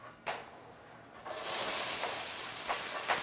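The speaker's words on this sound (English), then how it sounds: "I love that sizzle, guys. Do you love that sound?" Celery hits hot olive oil in a pan and erupts into a loud, steady hiss of sizzling that continues without a break, with a few small crackles and pops over the sustained noise.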